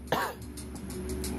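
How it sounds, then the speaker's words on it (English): A single quiet cough bursts out early and briefly, followed by soft room hiss. "I'm going to cough right now."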